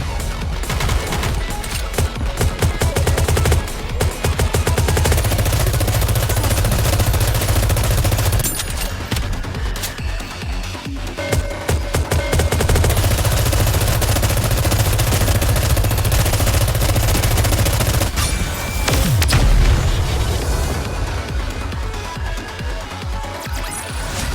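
Gunfire and bombardment in the video game Goddess of Victory: Nikke, a dense, loud, continuous barrage of rapid automatic shots and crashing impacts lasting over twenty seconds, with no speech.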